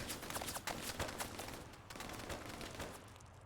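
Rapid gunfire in the military shooter Arma 3 comes as a quick run of cracking shots, then thins out to scattered bursts, moderately loud with no voice over it.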